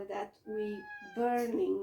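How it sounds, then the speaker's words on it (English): A pet cat lets out several short, tonal meows in quick succession, interleaved with someone speaking close by. "That was my cat,"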